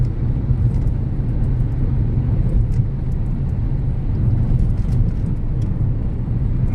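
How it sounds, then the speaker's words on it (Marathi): A car cruises at steady speed through a long 8-kilometre road tunnel, giving a continuous loud low rumble of engine and road noise that fills the enclosed space without a break and with no voices. "माझी गाडी 120च्या स्पीड आहे, पण इथे बोगद्यामध्ये 80ची स्पीड आहे."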